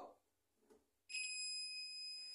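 A short-circuit detector tester beeps steadily while probing a closed microwave door microswitch, a loud sustained high-pitched tone starting partway through after a quieter stretch.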